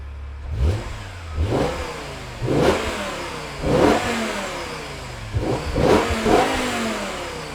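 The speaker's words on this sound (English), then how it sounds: "I'm gonna let it warm up and then I'm gonna give you a couple of revs." A BMW E46 325i Touring with a six-speed manual gearbox revs hard from idle in five or six sharp, close, loud bursts, each climbing quickly and dropping back, with no talking.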